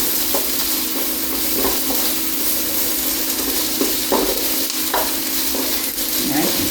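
Onions and peppers sautéing in a pan with a loud, continuous sizzle and occasional stirring scrapes, with no voices.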